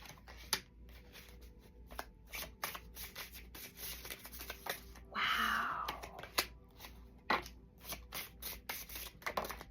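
Tarot cards are shuffled in quick, soft riffles and taps close by, with a longer rubbing swish in the middle and quiet pauses between bursts.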